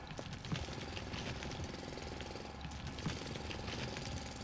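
A mining drill runs steadily in the video game Foundry, a continuous rough mechanical rattle and grind heard at moderate, even loudness with no talking over it.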